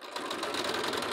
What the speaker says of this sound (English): if your sewing machine cannot handle this, put something under this fabric